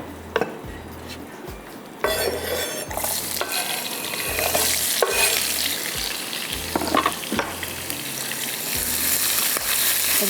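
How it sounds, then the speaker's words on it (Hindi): Cubed onions frying in a pan on high flame, a loud steady sizzle that swells after a clattering addition, with occasional scrapes and knocks of a spoon against the pan. "हल्का सा आपने इसको स्लो फ्राई करना है"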